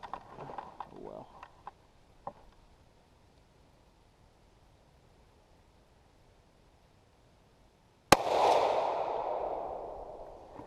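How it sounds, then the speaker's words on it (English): A 6.5x55 Swede rifle firing reloaded ammunition gives one sharp close blast followed by a long rushing decay, after a stretch of quiet breathing and faint speech. "I wasn't quite ready for the gun to go off."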